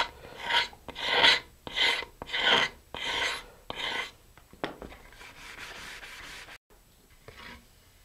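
Hand sanding or scraping high spots on the fiberglass body of a Level-2 rocket kit before priming: a run of rhythmic, close rasping strokes, about seven firm passes, then softer, sparser scrapes fading out.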